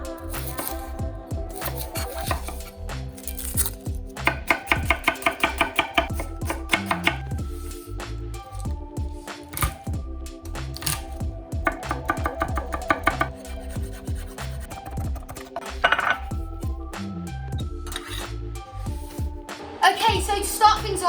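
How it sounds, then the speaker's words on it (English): A knife chops onions and garlic on a board for black beans in a home kitchen, in several bursts of quick, sharp, rhythmic taps separated by pauses, close and fairly loud over a musical backing. "Can you chop the onions and garlic for me?"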